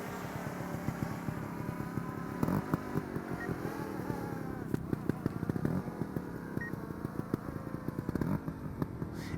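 A trial motorcycle engine putters and revs at low speed, rising briefly in short throttle blips as it steadily works through a tight turn, heard from nearby.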